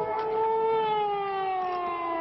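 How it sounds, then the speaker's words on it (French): Air raid siren sounding over Zagreb in 1991: a sustained wailing tone that slowly falls in pitch, steady and moderately loud at a distance, with no talking. "Alerte aérienne à Zagreb cet après-midi"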